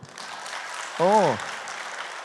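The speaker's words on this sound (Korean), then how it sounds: "박수." Applause from a congregation fills a large church sanctuary during a youth testimony meeting, a steady wash of clapping throughout, with a short rising and falling vocal whoop cutting through near the middle.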